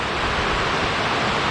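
A small mountain stream rushes steadily through a ravine, a continuous close wash of flowing water with no pauses.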